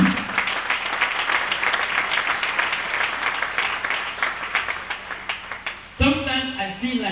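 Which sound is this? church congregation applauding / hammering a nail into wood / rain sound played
church congregation applauding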